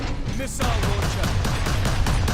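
Rapid, steady automatic gunfire from security gun turrets in Warhammer 40,000: Space Marine, bursts repeating at a near-regular rhythm over a loud, dense combat din with no pauses.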